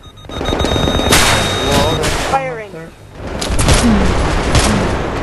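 Rapid bursts of automatic gunfire and booming shots from Battlefield 3 co-op play, loud and close, with short pauses between volleys and a few voices calling out amid the shooting.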